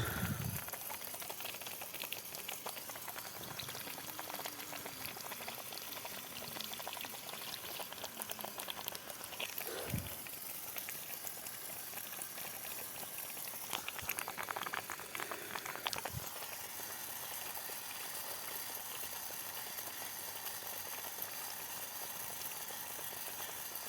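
A motor pump sends water gushing into a tank with a constant dense, bubbling rush, close and loud throughout, with a few knocks over the churning flow.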